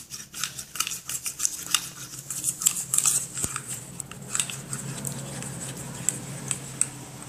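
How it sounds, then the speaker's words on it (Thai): A spoon stirring a glycerin and borax slime mixture in a container, heard as close, quick clicks and light scraping that slow to sparse taps. "แล้วก็คนให้เข้ากันนะคะ"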